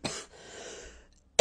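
Two short, harsh coughs, close up, separated by a faint breathy pause.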